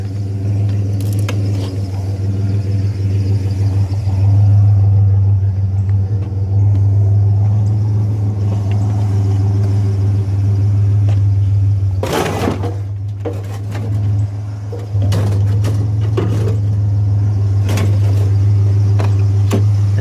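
A truck drives down the road with a steady low engine rumble throughout, with a few louder clunks and rattles from the cab, close and continuous without speech.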